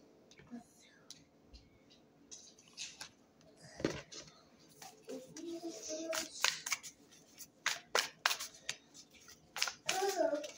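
Tarot cards being shuffled by hand, with soft riffling, sliding and tapping sounds that build toward the end, close and fairly quiet, with faint whispery background noise.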